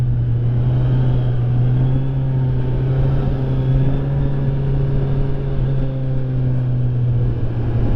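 A stock-exhaust Kawasaki Z900 motorcycle hums steadily while riding, with a constant droning engine tone, wind noise and a slowly shifting pitch, heard close with no talking.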